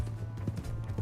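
Horse hooves clip-clopping in Red Dead Redemption 2, a quick run of soft, muffled steps over a low steady hum, fairly faint.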